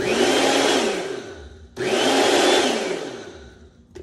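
A Goelunmy blender and food processor combo motor runs in two loud, steady bursts of whirring chopping, separated by a brief pause, with a short clunk at the end.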